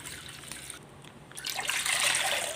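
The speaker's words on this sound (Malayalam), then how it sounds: "ഇതിലേക്ക് നമുക്ക് പാൽ ഒഴിച്ചു കൊടുക്കാം" Milk from two packets, about a litre, pours into a pot for palada in a steady, splashing trickle that briefly pauses, then resumes louder and fuller.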